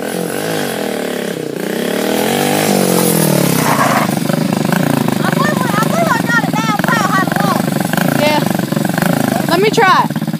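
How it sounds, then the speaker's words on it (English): Four-wheeler ATV, often wrecked but still strong, running loud and close. Its buzzing engine rises and falls through revs and idles while voices talk over it much of the time. "We have wrecked that four-wheeler so many times and it runs awesome."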